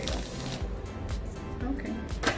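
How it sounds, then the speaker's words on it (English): Tarot cards being shuffled by hand, a steady papery riffling and sliding texture close by, lasting a couple of seconds. "I feel that I need to shuffle one more time."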